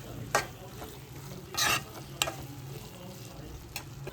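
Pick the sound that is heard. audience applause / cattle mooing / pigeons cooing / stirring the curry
stirring the curry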